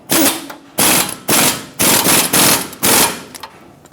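A ratchet snugs up the upper control arm bolts on a 2003–2009 Dodge Ram 2500, six loud, close bursts of rapid clicking separated by brief pauses.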